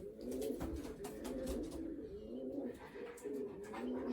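Racing pigeons coo close by in a loft, repeated low throaty calls in a steady rolling rhythm with faint rustling and no talking.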